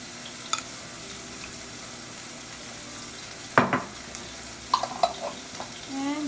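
A spoon mixes black bean garlic sauce into bitter melon and pork in a pan, a low background sizzle broken by a few clanks and scrapes of utensil on cookware.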